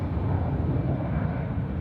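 Aer Lingus airliner departing Zurich Airport's runway, a steady, fairly loud broadband engine roar holding evenly throughout with no voices.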